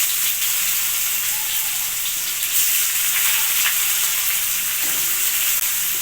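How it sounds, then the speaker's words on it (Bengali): Chopped onions frying in hot oil with bay leaf and dried red chillies give a steady, close, dense sizzle with soft crackle throughout, with no talking. "পেঁয়াজটাকে 1 মিনিট ভেজে নেব।"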